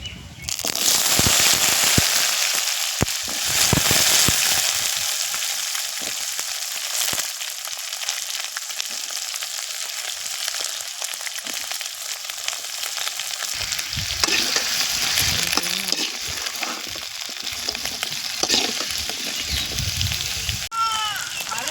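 Mango pieces fry and get stirred in hot oil with broken dried red chillies for mango pachadi, a steady loud sizzle with scraping stirs and sharp crackling pops throughout, no talking.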